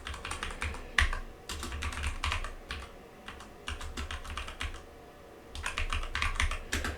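Close, quiet typing on a computer keyboard, rapid clusters of clicky keystrokes with short pauses between bursts, steady and unaccompanied.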